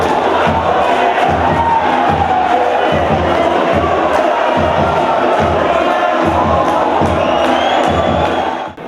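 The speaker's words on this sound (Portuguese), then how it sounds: "A torcida da veterana foi à loucura." A large stadium crowd at a football match roars and cheers loudly and continuously after a goal, with chanting and shouts rising together.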